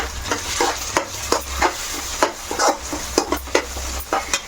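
Egg and raw prawn curry being stirred in a pan, with repeated scraping strokes and a steady sizzle underneath, close and fairly loud, no talking.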